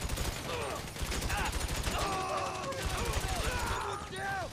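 Rapid gunfire from the video game GTA V during a Fleeca Bank heist, dense bursts of shots rattling on continuously while players talk over it and game sounds whine in the background.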